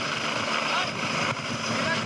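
A helicopter hovers during a mountain rescue on a rock face, its rotor and engine making a constant, loud, whirring drone.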